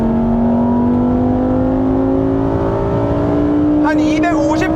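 A Lamborghini Huracan EVO V10 engine revs hard and close, its pitch climbing steadily as the car accelerates at high speed from about 150 toward 250 km/h, with a brief whine of a gear change near the end.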